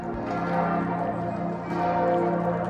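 A church bell rings out with sustained, ringing tones that swell and decay, loud and steady, with no voices over it.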